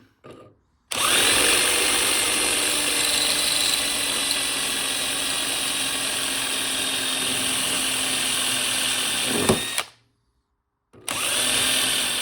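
A power grinder works an exhaust pipe to fit a Trx90 frame with a Piranha 140 engine, a loud sustained whine running for about nine seconds, a brief pause, then starting again.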